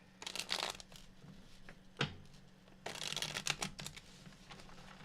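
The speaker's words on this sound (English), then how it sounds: "All right, last shuffle for Virgo and their person." Tarot cards are shuffled by hand in crisp, papery bursts, with a sharp riffle near the start and a longer run of flicks later, close and fairly quiet, with no speech.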